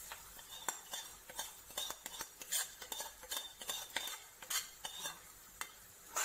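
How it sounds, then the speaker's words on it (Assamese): Semolina is stirred in a pan for salted halwa, giving scattered scraping and clinking spoon strokes against the pan, moderately close, with no speech. "এতিয়া মই চুজিখিনি ইয়াত ঢালি দিম"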